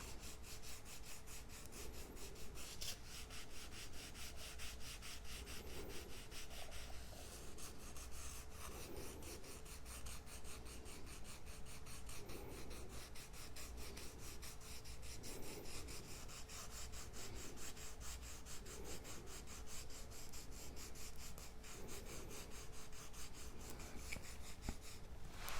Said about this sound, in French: Vous pouvez le faire délicatement, la lime à ongles, vous voyez ça. Ça slime très facilement.